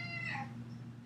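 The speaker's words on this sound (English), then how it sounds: "please pardon the cat in the background" A cat meows once in the background, a short rising-and-falling call at moderate distance over a steady low hum.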